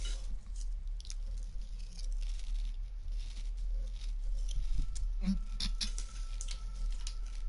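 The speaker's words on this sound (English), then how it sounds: "Sorry for the chewing," Someone chews close to the microphone, giving soft irregular wet smacks and squishes over a low steady hum, with faint film dialogue in the background.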